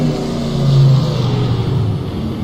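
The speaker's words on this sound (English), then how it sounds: "I'm gonna have to turn the engine off because I can't hear a bloody thing." A race car engine in the rFactor 2 sim game drones loud and continuous, its pitch rising briefly as it revs, then settling back to a steady tone.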